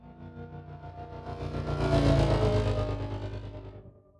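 Sci-fi vehicle synth preset called Rotator, processed with tremolo, delay, distortion and EQ, swelling from a dense buzzing drone to a loud peak around the middle, then fading out; continuous and close, no voices.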